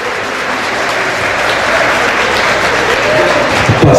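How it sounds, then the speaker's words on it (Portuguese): A crowd at a birthday party for a sports television programme gives the presenter a dense, steady round of applause that stays loud throughout, with a faint murmur of voices underneath. "Rogério Farias, o nosso aplauso"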